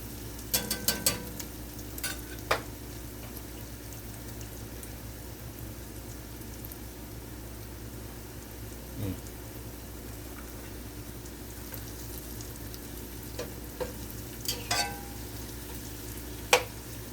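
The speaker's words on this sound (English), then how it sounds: "Instantly fragrant. About 3 minutes. Stirring." Stewed beef with potatoes and vegetables cooks in a pot, giving a faint, steady low sizzle broken by a few sparse clicks and scrapes of stirring.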